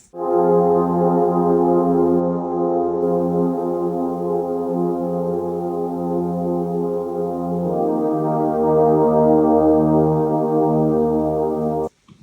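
Vital synth pad run through Logic's stock bitcrusher for added noisy texture, a loud sustained harmonic chord that changes partway through, playing alone with a faint grainy edge before stopping abruptly near the end.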